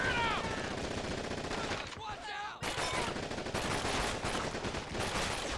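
Sustained battlefield gunfire from Call of Duty 2 (Big Red One campaign), dense rapid rifle and machine-gun bursts filling nearly the whole stretch, loud and continuous with a brief lull midway.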